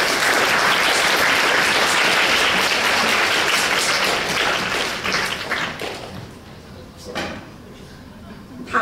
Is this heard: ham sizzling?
no